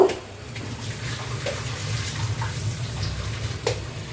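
Water is strained off boiled papaya and fish, pouring in a steady splashy stream for several seconds, close and moderately loud, with a couple of sharp clinks of the pot.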